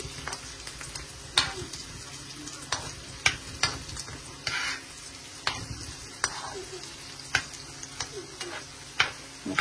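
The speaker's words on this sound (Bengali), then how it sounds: "সামান্য আনিয়ন বাজিছি মাছের লগে" Rohu fish frying with a little onion in a pan, a steady soft sizzle broken by frequent sharp clicks and scrapes of a utensil stirring, fairly close and without speech.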